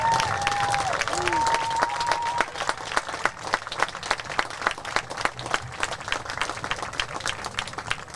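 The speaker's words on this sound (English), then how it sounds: "give all 5 of these outstanding young men a very well-deserved round of applause" Crowd applause at a high school baseball senior night, steady clapping and scattered cheers from the stands, with a voice over the loudspeaker at the start before the clapping continues alone.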